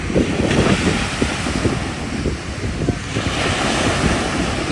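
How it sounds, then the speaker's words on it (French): Rough, churning sea waves crash and surge continuously close by, with gusting wind buffeting the microphone throughout; no talking. "l'eau elle est déchaînée"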